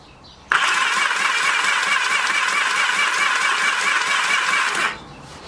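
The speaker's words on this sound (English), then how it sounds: "I get the feeling the starter motor is struggling" A Yamaha XS850 motorcycle's starter motor cranks the engine in one loud, continuous whirring burst lasting about four seconds. It sounds strained and the engine does not fire before it stops abruptly.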